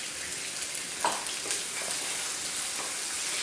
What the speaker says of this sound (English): I like the sound of jalapenos and cumin.